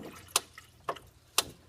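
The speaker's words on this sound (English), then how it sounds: "Get distilled water in there." Distilled water is poured into a container, coming as a few quiet splashes and drips spaced about half a second apart.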